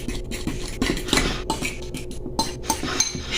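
A utensil clatters rapidly against a bowl while eggs and ham are stirred together, giving a busy run of close clinks and scrapes with no one talking.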